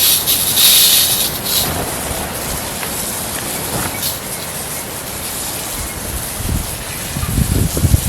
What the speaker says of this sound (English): Give this a little more water.